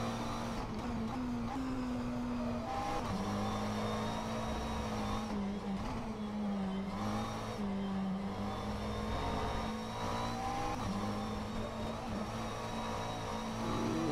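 McLaren 720S GT3 race car engine in the rFactor 2 sim at Botnia, droning steadily at high revs and pushed into over-revving, with the pitch wavering as the throttle shifts, loud and continuous throughout.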